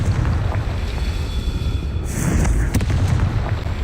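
A Confringo explosive spell in the Hogwarts Legacy video game lets out a heavy, continuous rumble, and a sharper blast bursts in about halfway through. The explosions sound loud and close.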